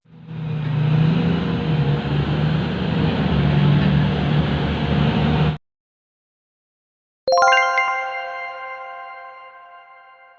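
A heavy-duty off-road dump truck engine used in mining and construction, a loud steady low rumble running for several seconds and then cutting off abruptly, followed by silence and a separate tonal ringing sound.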